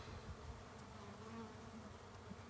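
Honey bees buzz steadily at a micro hive feeder, a soft, continuous low hum that stays even throughout with no voices.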